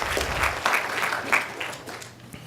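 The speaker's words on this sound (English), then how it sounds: "give her a round of applause" Steady applause from a sizable audience, a dense wash of clapping that holds for a few seconds without pause.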